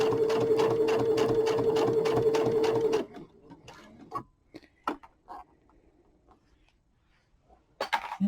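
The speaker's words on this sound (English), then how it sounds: "It should do a locking stitch. I'll slow that down just a bit." Sewing machine running a locking stitch on a snowman wall hanging, a fast, even mechanical rattle that stops after about three seconds, followed by soft scattered clicks and handling sounds.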